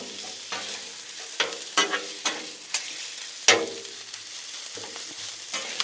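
Beef chorizo sizzling in bacon fat on a Blackstone griddle, with a spatula scraping and stirring in repeated sharp strokes over a constant close crackle.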